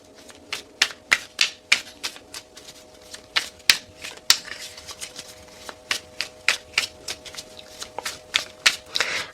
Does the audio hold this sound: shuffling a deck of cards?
yes